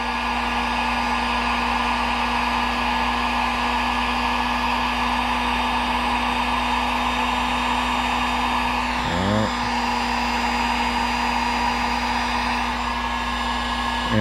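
A heat gun blows a steady, loud, even whoosh with a constant whine while it warms plastic to pull out a dent, running unbroken the whole time with no talk.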